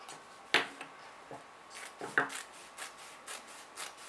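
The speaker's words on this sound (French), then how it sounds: "maintenant je vais découper l'excédent de mousse tout le tour" Scissors or a blade trim excess foam from a fabric placemat, giving soft close snips and quiet rubbing in a faint irregular series, with no talking.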